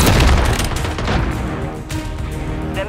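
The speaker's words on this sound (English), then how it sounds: "Cluster mine deployed!" Booming explosions and rapid gunfire from a cluster mine strike in Call of Duty MW3 multiplayer on the Shipment map, a dense, continuous barrage of loud blasts and shots filling the whole stretch with no talk.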